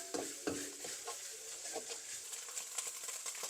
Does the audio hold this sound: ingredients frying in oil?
yes